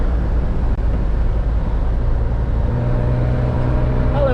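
A Mercedes rolling through Joyce Kilmer Forest on the way to Tail of the Dragon, its steady loud engine and road drone filling the cabin without a break, a slight tonal hum rising near the end.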